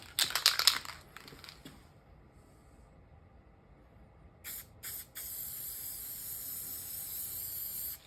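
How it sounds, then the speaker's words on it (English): A Cyclone 5 paint sprayer spatters while stenciling, likely from a bad nozzle. It opens with a loud, sputtering burst of spray, goes quiet, then gives two short hissing bursts and a long, steady spray to the end. "Spattering everywhere."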